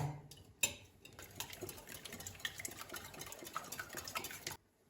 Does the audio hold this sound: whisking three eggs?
yes